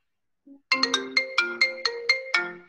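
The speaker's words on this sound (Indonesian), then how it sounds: "Siapa ini telepon-telepon dulu?" A telephone ringtone plays up close: a short soft lead-in tone, then a quick run of about eight bright electronic notes in a steady rising-and-falling melody, with no talk.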